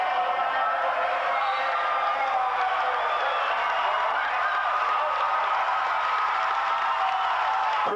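A crowd in a high school gym applauds steadily at a 1988 Aptos boys basketball game, a broad sustained wash of clapping and cheering with no pauses.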